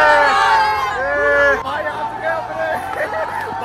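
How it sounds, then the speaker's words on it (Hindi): A crowd at a Munawar Faruqui fan meetup in Mumbra creates a loud, excited babble of overlapping voices and cheering, with someone shouting over the noise close by. "क्राउड भाई क्राउड देखो, पूरा क्राउड पागल है"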